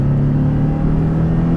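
A Porsche Cayman on a race track, powering out of a chicane, gives a brief, loud, close engine drone with a strong steady tone and no talk.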